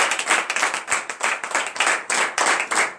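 A congregation at a morning prayer service claps in acclamation, a dense, lively patter of many hands with rhythmic surges, close and steady with no talking.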